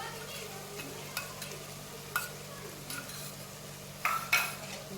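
A spoon stirs masala paste into pav bhaji in a pan of softened tomatoes over a low flame, giving a few faint scrapes and clinks over a quiet steady hum.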